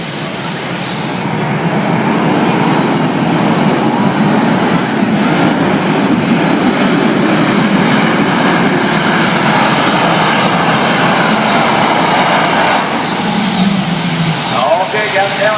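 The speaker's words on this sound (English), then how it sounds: "That's a jet engine, you know." A jet engine mounted on a pulling tractor roars in a loud, sustained whine and rumble that holds steady for the whole stretch, a broad continuous blast with faint voices underneath.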